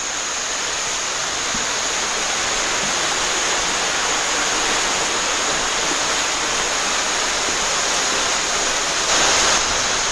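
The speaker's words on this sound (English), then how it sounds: "Yeah, so here's the main creek." A swollen main creek rushes heavily past a footbridge on a woodland trail, its steady broadband roar of churning water close and loud, continuous throughout with no voices.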